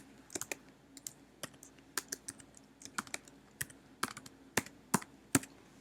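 Typing on a computer keyboard while entering an equation in Mathematica: a steady sequence of crisp, close key clicks at an uneven rhythm, growing slightly louder toward the end, with no talking.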